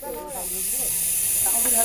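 An agitated Russell's viper hissing like a pressure cooker whistle, a loud, close, continuous breathy hiss that swells slightly over under two seconds, with faint voice-like tones beneath.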